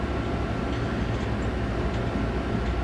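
A DB BR 103 electric locomotive in Train Sim World 4 runs along the Linke Rheinstrecke with power cut, its steady, loud rumble and rolling rail noise holding constant and close.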